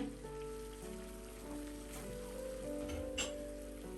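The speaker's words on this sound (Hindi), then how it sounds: "पानी को उबाल आ गए।" Water boils in a covered cooking pot, ready for tapioca pearls for bubble tea. A steady, dense bubbling hiss like rain on a surface continues evenly under quiet background music.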